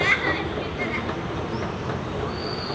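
A train rolls along rails at a Hyderabad metro setting, a steady broadband rumble with faint high squeal that holds evenly throughout, with voices talking nearby.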